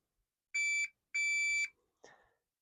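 Two loud, sharp electronic beeps from a shooting shot timer sound in quick succession with a short gap between them, followed by a faint brief click or thud.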